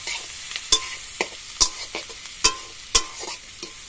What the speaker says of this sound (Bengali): পেঁয়াজটা পুরো একদম বেরেস্তার মতন করে পুরো একদম ভেজে নিতে হবে